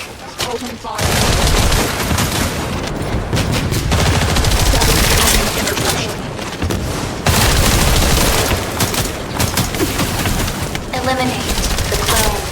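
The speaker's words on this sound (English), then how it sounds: "Open fire." Sustained automatic gunfire in the looter-shooter game The First Descendant, loud continuous bursts with heavy booms and short pauses, voices speaking between volleys.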